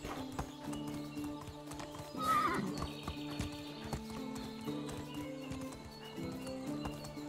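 A horse gallops in Medieval Dynasty with a steady, rapid clip-clop of hooves and a brief whinny partway through. Game music plays underneath, and there is no talk.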